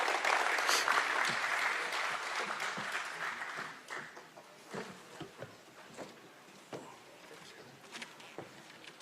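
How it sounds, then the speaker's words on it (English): An audience at a Kenya–South Africa business forum in Pretoria claps together, loud and dense at first, then thinning into scattered, fading claps. "Round of applause, please."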